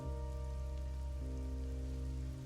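Steady, dense rain falls on a street, a continuous even hiss that stays constant throughout, layered over low sustained music tones.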